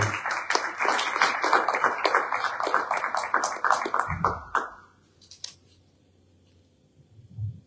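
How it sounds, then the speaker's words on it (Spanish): Audience at a monthly café conference claps for about four seconds to welcome a speaker, a close, lively round of applause that stops abruptly, followed by a few faint rustles and near silence. "démosle la bienvenida con un fuerte aplauso a nuestro hermano Josué González"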